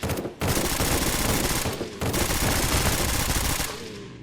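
Sustained automatic gunfire from the video game SurrounDead, loud and dense, with a brief gap near the start and another around the two-second mark, then continuing rapid shots.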